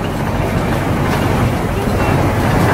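Steady rumbling wash of water and engine noise with wind buffeting as an amphibious duck boat enters the water at Galveston Island, loud and continuous throughout.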